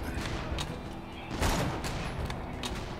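Shotgun gunfire in the video game Borderlands 2, a rapid series of loud blasts and bursts with one heavier boom midway, over a busy noisy combat background.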